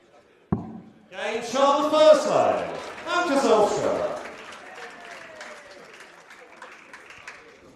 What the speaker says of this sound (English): It draws a round of applause from Paula Murphy.